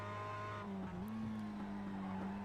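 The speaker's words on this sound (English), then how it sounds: "that is a Porsche desperately trying to get past on one of the Mazdas" Porsche 911 and Mazda MX5 race cars lapping Brands Hatch in qualifying: a sustained engine drone that shifts pitch upward as one car chases another, with faint tyre scrub, loud and close throughout.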